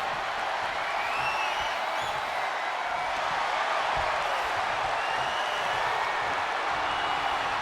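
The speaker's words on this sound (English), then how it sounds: "what a rowdy crowd here" A rowdy crowd at a wrestling championship event gives a sustained, dense roar of cheering and applause that stays steady and loud throughout.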